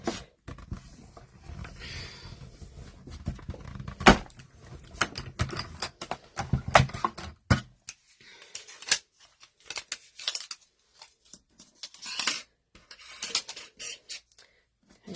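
Scissors cut out a piece of card for a Z-fold diamond pop-up fancy fold card, giving a series of sharp, close snips and crisp rustles in irregular bursts, with quieter pauses between cuts.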